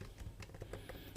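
Quick keyboard typing on a computer while entering a git commit message, a run of light, fairly even clicks close by over a low background hum, with no talking.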